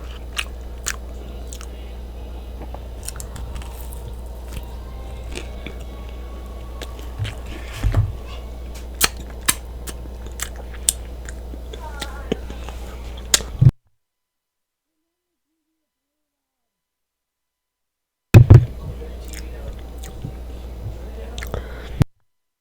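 Biting and chewing on Domino's pepperoni pizza, close and intimate, with wet crunches and soft squishy mouth sounds in steady bursts, a few sharper bites, then a silent gap before chewing resumes.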